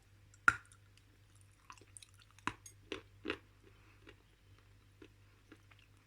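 Crunchy yellow edible clay from Kyrgyzstan being chewed close up, a sharp crunch followed by scattered softer bites and clicks over several seconds, with no talking.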